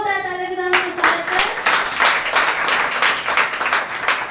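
A congregation at a Sunday church service breaks into loud, dense applause after a sustained tonal note, the clapping crowding in suddenly and rolling on steadily to the end.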